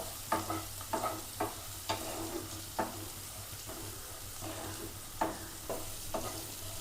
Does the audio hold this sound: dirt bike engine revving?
no